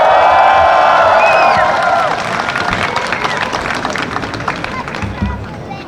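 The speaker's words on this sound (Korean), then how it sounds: "큰 박수 부탁드립니다" Applause and cheering from a crowd at a Seoul National University candlelight rally as a student speaker is called up, loud and dense at first, then settling into steady clapping with crowd murmur.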